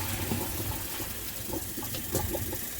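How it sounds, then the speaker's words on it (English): Boiled elbow macaroni being drained, with a steady rush and gush of water pouring through for a few seconds at a moderate level, with no talking. "I'm going to drain this pasta out."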